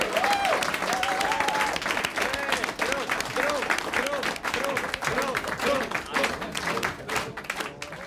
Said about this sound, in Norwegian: ta oss en liten applaus for Trond